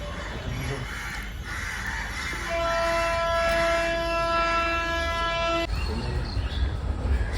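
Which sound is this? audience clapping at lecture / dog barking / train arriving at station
train arriving at station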